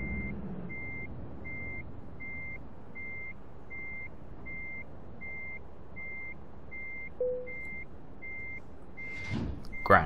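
A simulated heavy truck in Euro Truck Simulator 2 backs up to hitch a trailer, its reversing alarm beeping in a steady, evenly spaced rhythm over a low engine idle, with a brief air hiss and a clunk near the end.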